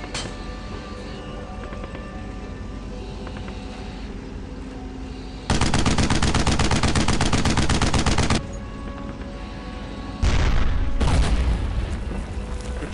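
A .50-calibre machine gun fires in a World War II shooter game, long rapid bursts loud and close, stopping briefly then resuming with a heavier, booming stretch over background battle noise.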